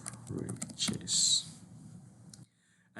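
Typing on a computer keyboard, a short burst of soft key clicks and taps, close and quiet, partly under a speaking voice before fading to near silence.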